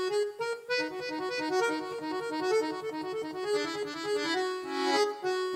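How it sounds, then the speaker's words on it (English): An accordion plays a bouncy tune, bass notes pumping beneath a bright reedy melody, steady and close. "It's an accordion."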